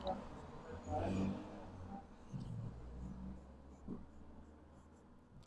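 A Sheaffer No Nonsense fountain pen with a broad italic nib scratches across paper in soft, close strokes and pauses, faint and intermittent, with a quiet voice present at times.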